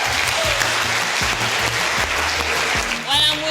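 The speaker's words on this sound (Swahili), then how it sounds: "Mabibi na mabwana, tumpigie makofi mengi Gigy Money." Loud, dense audience applause rings out for Gigy Money at a stage show, sustained throughout over a low thumping beat, with some voices mixed in.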